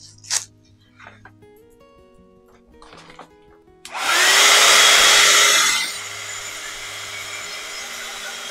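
A hair dryer whooshes on suddenly, blowing loudly for about two seconds on a chain before settling to a lower steady hum; faint taps and handling sounds precede it.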